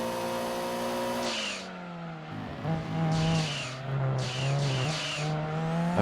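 A fast race car in a racing video game revs hard, then the pitch drops on a shift and the tires skid and squeal in bursts, loud and close throughout.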